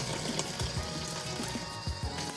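Water trickles and splashes steadily into a container holding scooped chocolate protein powder, with a few soft knocks and clinks underneath the continuous pour.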